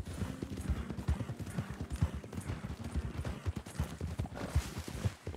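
Horse hooves clip-clop in a steady rhythmic gait in Red Dead Redemption 2, close and clear with a brief whinny, while someone talks quietly over the game.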